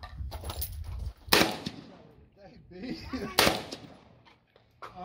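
AK rifles in 7.62 fire at an outdoor range, two sharp, loud cracks a couple of seconds apart with fainter pops between, while men chat nearby.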